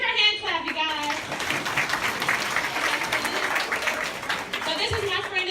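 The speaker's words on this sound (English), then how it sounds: "Give her a hand clap, you guys." Elementary-school children applaud together for a girl named Alexis called up to the front, a dense, steady patter of many small hands filling the room, with a few young voices calling out over it.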